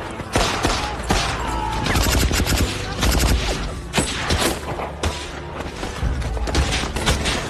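Rapid bursts of battle gunfire crack and rattle, sharp shots and volleys overlapping loudly with dull thuds throughout.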